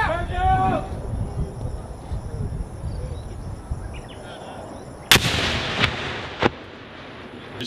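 Marines drilling room clearing set off fragmentation grenades: three sharp, loud blasts land close together late on, after a stretch of shouted voices and steady background hiss.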